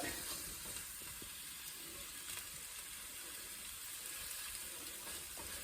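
Onions frying on a gas stove give a steady, faint, even sizzle that holds for the whole stretch, with no voices over it.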